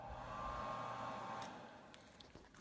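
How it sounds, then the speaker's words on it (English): A small Dayton blower on a homemade coal forge with a fabricated half-inch mild steel fire pot whirs steadily, then winds down after about a second and a half, leaving faint clicks and knocks. "A little Dayton blower."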